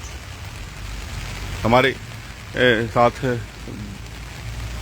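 Rain falls steadily in a soft, constant patter while someone speaks briefly over it in short phrases.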